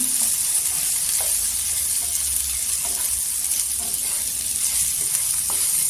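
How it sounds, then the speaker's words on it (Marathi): Okra with garlic fries in hot oil in a pan over a high flame, with a steady, loud, close sizzle throughout and faint scraping stirs now and then. "तेलावर ना परतून घ्यायची"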